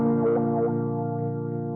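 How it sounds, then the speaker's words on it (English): An electric guitar runs through a Zoom effects pedal set to wah, producing one sustained, distorted note whose tone sweeps up and down briefly, near and steady, with no talking. "Hear that kind of wah-y sound that it's doing?"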